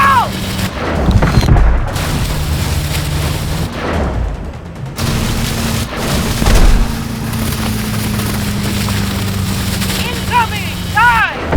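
Missile explosions and gunfire in the video game Call of Duty: Advanced Warfare: booms and scattered shots, a steady engine drone, and shouting voices throughout.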